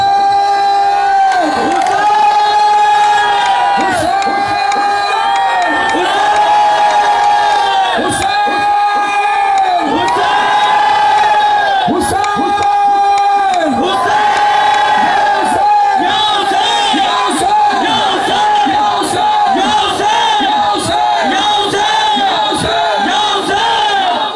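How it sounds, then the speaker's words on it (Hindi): A large crowd at a live religious gathering in Karachi shouts out to their Mawla in rhythmic chanted cries, loud, dense and continuous with steady pulsing beats underneath. "जितनी सीनों में ताकत है अपने मौला को चीख कर पुकारो"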